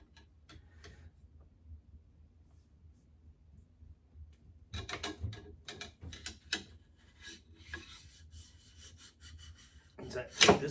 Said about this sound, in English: Let's run us a brush through here real quick. And see if we get any extra carbon.